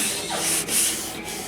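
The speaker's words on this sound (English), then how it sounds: "the rest of this now is going to be hand sanding" A car body is sanded by hand, with close, loud rubbing strokes of abrasive against the panel in a short back-and-forth rhythm.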